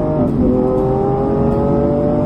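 A supercar's engine revs hard on a race track, a loud, close, sustained roar with rising pitch and no pauses, heard alone without talk.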